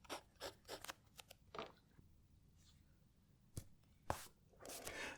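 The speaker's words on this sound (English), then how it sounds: "This paper's got a bit of texture to it, so you can really hear this pen writing." A Kaweco Sport fountain pen scratches across textured paper in short, irregular strokes, close and quiet, with brief pauses between bursts.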